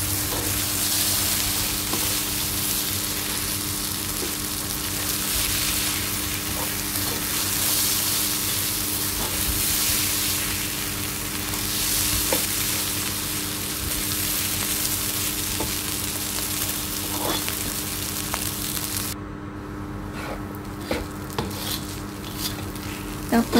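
Shrimp teriyaki fried rice frying and being stirred in a pan, a steady close sizzle with scraping stir strokes running throughout, no talking.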